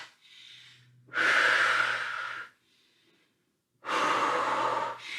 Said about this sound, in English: Try to breathe deep, controlling that breath.